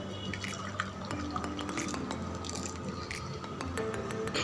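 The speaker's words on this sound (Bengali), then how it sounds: "এখন আমি যে পাত্রে সেট করব সেই পাত্রে গরম গরম ঢেলে দিচ্ছি।" Hot watermelon jelly mixture being poured from a pot into a setting container, giving a steady wet pouring and dripping sound with light clinks of utensils and cookware, close by and moderately quiet, with no talking.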